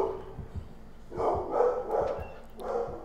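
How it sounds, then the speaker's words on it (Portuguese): A pet dog barks in the middle of a Dead by Daylight gameplay session, giving several moderately loud barks in short bursts, with soft whimpering yips between them over low background game sound. "O cachorro decide latir no meio da gameplay."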